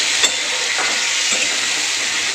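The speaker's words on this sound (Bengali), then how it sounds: "রান্না হচ্ছে চিকেন" Chicken curry sizzling in a pan, a steady bright frying hiss with a few soft stirring scrapes, close and alone with no talk.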